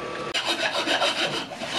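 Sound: filing grooves into a scabbard piece

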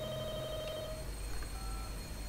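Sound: telephone ringing in The Walking Dead Michonne video game

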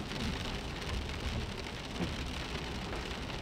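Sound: rain

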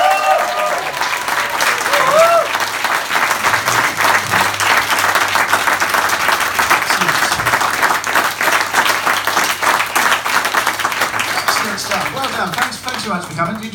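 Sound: audience applause

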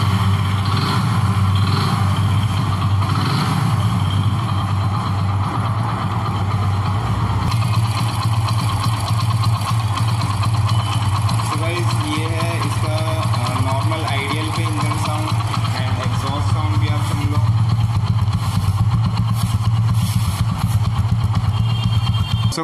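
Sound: Hero Splendor Pro motorcycle engine starting and idling

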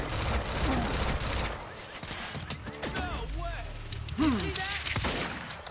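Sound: shotgun fire in Quantum Break video game

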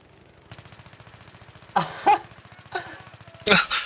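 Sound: machine gun fire in a video game, likely Battlefield

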